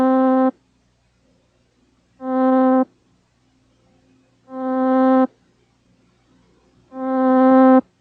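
Four separate synthesizer notes at the same pitch, each with a gradual attack that swells in rather than starting abruptly, cut off sharply and spaced by short silences, with a bright buzzy tone.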